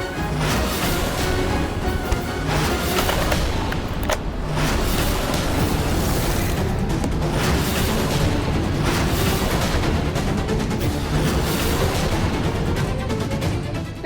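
Rapid gunfire in a Hindi TV drama, a dense barrage of loud booming shots and cracks that runs continuously, with rumbling vehicle-like noise underneath.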